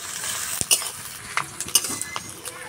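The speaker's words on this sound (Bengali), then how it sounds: "পেঁয়াজটা ভালো করে ভেজে নেব," Onions frying in a pan for a village-style chicken kosha, a soft continuous sizzle broken by several quick scraping stirs of a spoon against the pan, close and fairly quiet.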